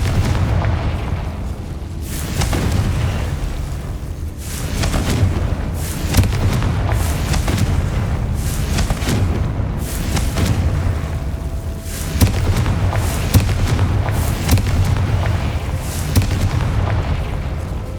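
Repeated fiery blasts of the Confringo spell in Hogwarts Legacy, a string of loud booming explosions that come every second or two over a dense, rumbling background, with no talking.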